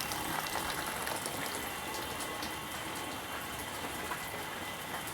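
Water flowing from a small motor pump pipe into a tank, a continuous soft splashing rush, steady and fairly faint throughout.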